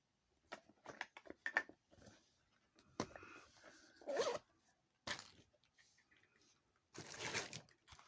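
Several bursts of a makeup zipper pouch being zipped and rustling, close by and fairly quiet, with short pauses between movements.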